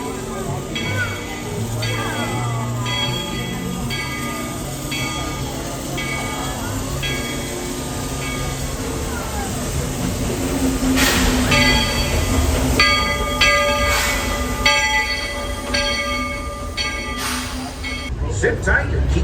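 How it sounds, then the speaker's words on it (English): A loud train at a theme park rumbles and clanks nearby, with hissing and mechanical tones building in intensity, while people talk over it. "Oh my gosh, that's a loud train."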